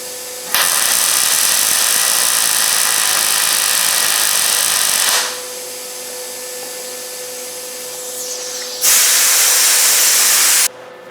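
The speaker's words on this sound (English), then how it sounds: "you heard how goofy the welder acted on that first one with the copper piece as a backer" A welder runs on the crossrail of a 1972 Camaro in three loud, steady buzzing hisses: a long burst, a quieter stretch with a faint tone, then another strong burst that cuts off sharply at the end.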